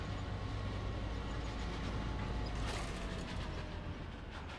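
An elevator moves in the video game Crime Scene Cleaner, a continuous low mechanical rumble and hum with a brief brighter clank midway, steady and close.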